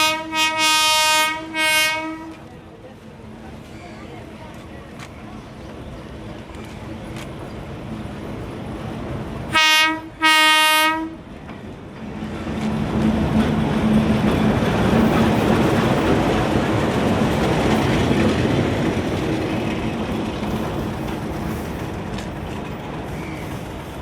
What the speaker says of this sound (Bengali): প্রায় 1 ঘন্টা অপেক্ষা করার পরে ট্রেন চলে আসলো কিছুক্ষণের, খুব তাড়াতাড়ি।